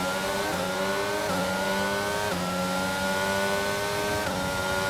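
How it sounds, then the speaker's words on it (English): Race cars in a racing video game scream past one after another in a close train, their high engine notes rising and falling through repeated gear shifts, loud and continuous, with no talking. "There's quite the train of cars here."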